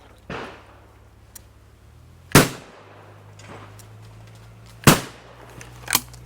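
Shotgun shots at a sporting clays shoot at the British Open Championship, four sharp outdoor bangs spaced out over several seconds, with two louder close shots and fainter, more distant ones.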